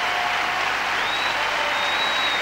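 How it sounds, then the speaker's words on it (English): An arena crowd applauds figure skating pair Susanna Rahkamo and Petri Kokko, a loud, dense wash of clapping that holds steady and unbroken from start to finish. "Terrific response from the crowd."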